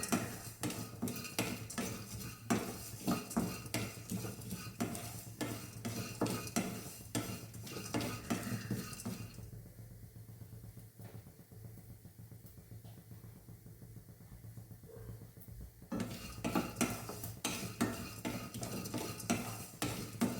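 A spoon stirs jackfruit seeds dry-roasting in a pan, scraping and rattling in quick repeated strokes over a soft sizzle, close up, pausing for several seconds midway before the stirring resumes.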